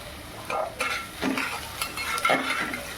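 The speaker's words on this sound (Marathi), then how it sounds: "आपला कांदा आता जरा शिजत आलाय" Onion cooks in a pan for a fenugreek curry, with a soft sizzle under several spatula stirs and scrapes against the metal close by.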